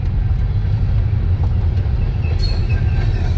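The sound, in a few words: train passing by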